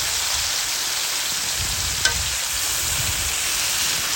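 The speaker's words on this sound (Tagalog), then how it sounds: "Ngayon naman pwede na natin i-add yung ating marinated chicken." Marinated chicken hits hot oil in a pan for chicken adobo after onions, giving a steady, close broadband sizzle and fry hiss with one brief clink near the middle.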